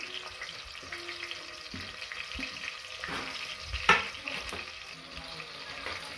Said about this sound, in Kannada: ಈರುಳ್ಳಿ ಮತ್ತು ಓಮ್ ಕಾಳು ಚಕ್ಕೆ ಲವಂಗ ಚೆನ್ನಾಗಿ ಸ್ವಲ್ಪ ಫ್ರೈ ಮಾಡ್ಕೋಬೇಕು